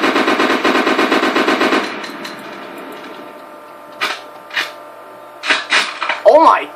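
Rapid automatic fire from a SEAR rifle in Garry's Mod: a loud, fast burst of rhythmic shots lasting almost two seconds, followed by quieter mechanical clicks and clunks, then a voice exclaiming near the end.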